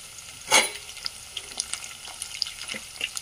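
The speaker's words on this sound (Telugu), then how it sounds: "ఉల్లిపాయ వేసుకుంటున్నాను. కరివేపాకు వేసుకుంటున్నాను." Onion and curry leaves tossed into a pan of hot oil for a Telugu potato kurma, with a loud burst of sizzling early on followed by softer crackles and pops close by.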